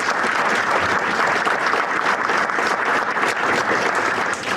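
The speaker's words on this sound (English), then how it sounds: "And I think she deserves a round of applause for that." A conference audience at an energy and environmental forum gives a sustained round of applause, loud and even throughout with no voices over it.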